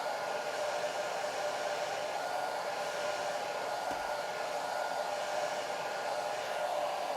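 A hair dryer blows steadily to dry watercolor paint on paper, a constant close whooshing hum running without a break.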